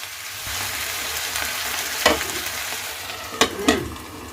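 Tomato and onion masala for Punjabi rajma cooking in a pan, a bubbling sizzle broken by several loud spatula scrapes and knocks against the pan near the end; no speech.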